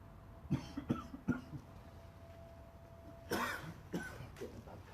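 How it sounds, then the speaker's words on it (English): A man gives a series of short, close coughs, first three in a row, then a pause before a heavier fit of two or three more coughs. "Getting a bad cough there as well"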